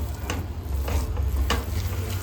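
Raw mango chutney is stirred as it fries in a pan, with a few spaced scraping strokes over a steady low sizzle.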